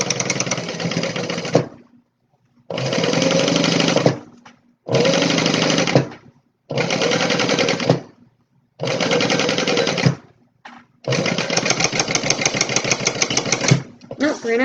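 A sewing machine top stitching a seam on a tote bag, running in six bursts of a few seconds each with short silent gaps between, steady whirring stitch rhythm close to the listener, with no talking over the machine.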